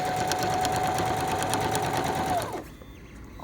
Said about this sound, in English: as I sew those two basically flaps that I made